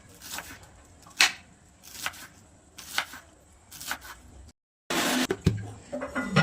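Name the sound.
finely chopping green onion stalks with a knife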